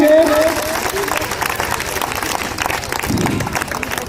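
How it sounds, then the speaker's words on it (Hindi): Schoolchildren clap to welcome Dilip Sir at a school prize-giving ceremony, with loud, dense clapping throughout and voices talking over it. "ताली बजाकर हमारे दिलीप सर का स्वागत करेंगे"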